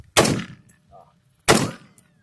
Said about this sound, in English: Bump fire this son of a bitch.